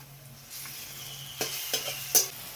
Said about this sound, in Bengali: তো এখন আমি এই রসুন পেস্টটা দিয়ে দেব